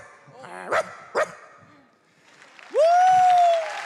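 A man on a stage imitates a dog with his voice: two short sharp barks, a pause, then a long drawn-out howling yelp, fairly close and loud.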